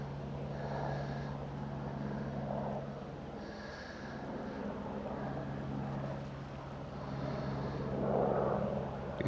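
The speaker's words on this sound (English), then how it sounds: "there's that helicopter with that" A helicopter carrying a radar unit flies a grid pattern overhead near a trailer, its steady low rotor drone and engine hum continuous and moderately distant throughout, swelling slightly near the end.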